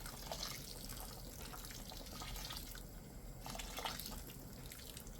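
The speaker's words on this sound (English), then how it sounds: "before I cover the rice, I'm adding a bit more liquid" Liquid poured into a pot of rice and beans being cooked for waakye, a continuous splashing, trickling pour with uneven bursts, close and fairly quiet.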